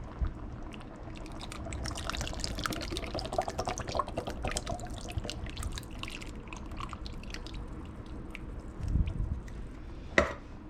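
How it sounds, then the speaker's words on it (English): A can of evaporated milk pours into a pot of green chicken and rice soup, a steady liquid stream with dripping splashes, followed near the end by a couple of louder clinks and thuds. "So I'm going to add our can of evaporated milk."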